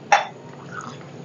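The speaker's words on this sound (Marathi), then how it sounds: "त्यात थोडंसं पाणी ॲड करूया" Water is splashed into a mixer jar of soaked rice for rice kheer: one quick close liquid splash and clink, then a faint trickle fading into quiet.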